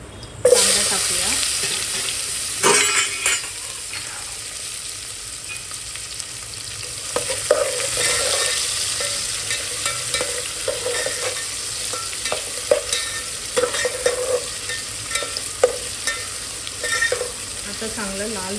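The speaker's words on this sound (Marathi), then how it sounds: "आता चांगलं लाल होऊ द्या आपण कांदा" Chopped onions fry in hot oil with browned cumin seeds in a pan for veg pulao, giving a steady close sizzle broken by scraping stir strokes throughout, with no talking.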